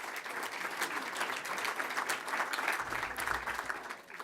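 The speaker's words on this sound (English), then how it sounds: "Give yourselves a nice round of applause" A sellout crowd at the Elmhurst Chamber of Commerce awards gala applauds itself, a continuous, busy patter of many hands that swells gently and holds steady.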